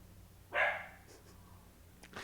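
A single sharp dog bark rings out indoors at moderate distance, followed by a faint softer yelp a moment later against a quiet room.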